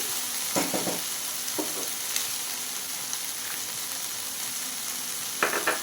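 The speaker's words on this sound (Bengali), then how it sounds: "একটু নাড়াচাড়া করে মিশিয়ে নিচ্ছি" Okra fries in a pan with a steady, bright sizzle, and a few sharp scrapes and knocks come as it is stirred.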